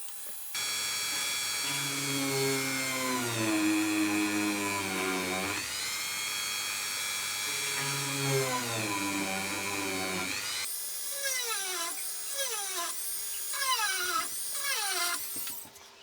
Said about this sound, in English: That drill's a bit blunt, which isn't too much of a problem with this.